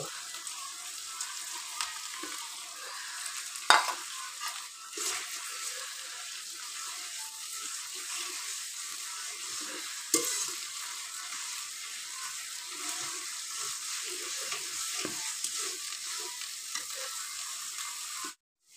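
Spices and nut paste sizzle in a pan while being stirred for a chicken roast, a continuous crackling fry broken by a few sharp scrapes and taps of the spoon.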